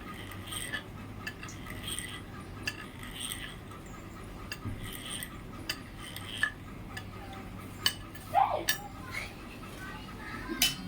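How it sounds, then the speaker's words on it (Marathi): A spoon cuts through rolled shankarpali dough with a series of light, irregular taps and clicks against the board, close but faint, with a few sharper knocks toward the end. "आता मी चमच्याने कापून घेते"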